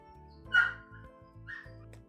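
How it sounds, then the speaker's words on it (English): A dog barks once sharply, followed by a softer yip, against a steady background hum and rhythmic mechanical thumping. "I think I'm just going to play music over the dog barking."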